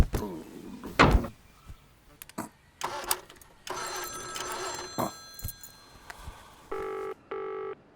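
A telephone bell rings twice near the end, each ring short and bright, after scattered knocks and clatter from a room with a door.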